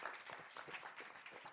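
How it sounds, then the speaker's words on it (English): An audience applauds at a panel discussion on democracy in Africa: a dense, steady round of clapping that holds for the whole moment without fading. "Let's give a round of applause for our..."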